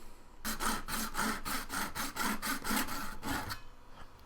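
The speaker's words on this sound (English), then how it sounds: "Cutting was the easy part with the miter box and a razor saw" A razor saw cuts a plastic Rubik's Void Cube piece held in a miter box, making about a dozen steady back-and-forth rasping strokes, close and clear, that stop abruptly near the end.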